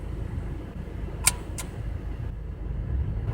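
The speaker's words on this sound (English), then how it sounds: "Come on, cars, go away." Cars pass at night on a road, a low steady rumble of traffic with two short sharp noises partway through.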